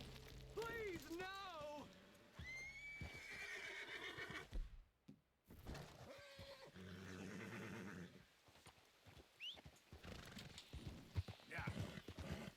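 Horse hooves clip-clop alongside loud, wavering whinnies in Red Dead Redemption 2, with people talking over them and a brief silent gap midway.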